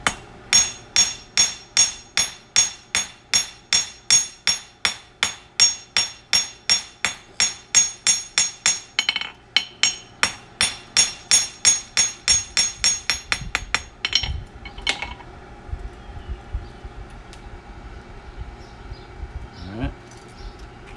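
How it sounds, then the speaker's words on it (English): A steel horseshoe toe clip being forged with a hammer on an anvil: a long, steady run of sharp, ringing close blows at a quick even rhythm that stops, leaving a few quieter knocks and shuffling. "All I got to do is just finish forging it out."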